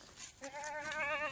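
Kathiawadi goats at a live goat sale, heard as one close, wavering, sustained bleat that rises out of a short stretch of rustling noise and carries on to the end, with no talking.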